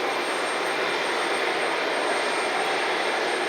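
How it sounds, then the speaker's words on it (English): A JetBlue Embraer E190 jet pushing back at night at Cleveland Hopkins airport gives off a constant, broad engine roar with a faint high whine on top, steady and unbroken, heard from a spotting position. "JetBlue has begun to push back. The Embraer E190"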